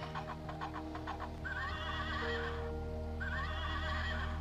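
A toy horse plays a recorded neigh when its button is pressed, giving electronic-sounding whinnies with clip-clop hoofbeats, repeated twice against a steady background hum.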